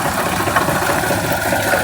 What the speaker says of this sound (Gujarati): આપણે હવે ટ્રેક્ટર ચાલુ કર્યું છે